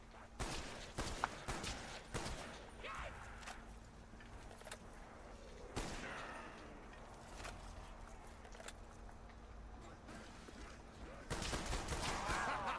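Video game gunfire from an MP5K submachine gun and an M14 rifle, with repeated shots and bursts over a steady background, louder stretches near the start, around the middle and at the end.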